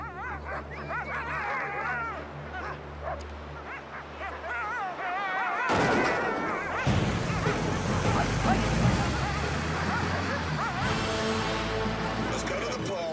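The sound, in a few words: pack of sled dogs barking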